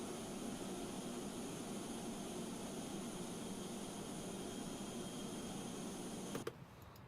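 An airliner takes off in Microsoft Flight Simulator, a steady, faint jet roar with a high whine held throughout, cutting off abruptly near the end.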